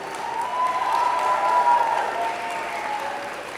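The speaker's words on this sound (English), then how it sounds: "I ask the graduating class to reciprocate by applauding your family, friends, faculty, indeed all those who helped you to reach your goal." A large audience at a Simon Fraser University spring convocation ceremony applauds in a sustained, even roar of many clapping hands that swells slightly midway and then eases.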